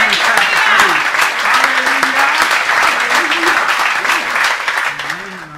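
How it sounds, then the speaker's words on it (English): Congregation clapping a hand clap of praise during a worship service, sustained dense applause with voices calling out over it, fading slightly at the end. "Give them a hand clap of"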